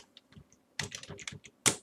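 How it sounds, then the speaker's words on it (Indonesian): Someone types a file name on a computer keyboard: a few soft, scattered keystrokes, then a quicker run of crisp clicks close by, ending on a sharper key press, with no voice over it. "Jadi kita ketikkan nama yang lain."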